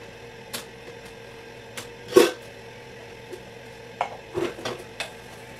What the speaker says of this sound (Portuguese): eu gosto de lavar a louça